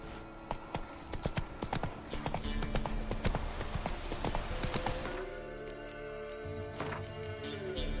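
Hooves of the horse Roach galloping in The Witcher 3: Wild Hunt, a fast rhythmic clip-clop that is loud and steady, then slowing as a low tone takes over.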